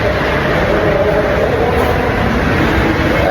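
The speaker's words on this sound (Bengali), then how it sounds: "ওই দেখো একটা ট্রেন ঢুকছে" A metro train pulls into a station, its loud, steady rumble and rolling roar filling the platform without a break, with no voices over it.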